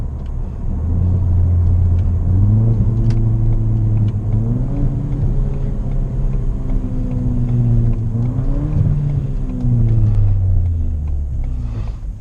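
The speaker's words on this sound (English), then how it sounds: "This car does offer some great sounds just by doing the muffler delete" A Ford Fiesta Titanium with a muffler-delete exhaust rumbles loudly up close, its engine note rising and falling through several revs with a throaty drone and no talking.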